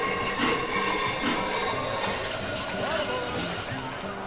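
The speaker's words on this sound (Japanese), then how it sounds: "列車の設定を済ませて、ニューヨーク便、運行、" A train pulling out of a station in the railway strategy game Sid Meier's Railroads, with steady rolling rumble, clanking and brief wheel squeals throughout, fairly loud under a faint background mix.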